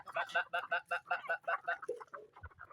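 Backyard hens in a home coop cluck in a rapid, rhythmic run of short calls, close and fairly loud, ending with a few lower, softer notes.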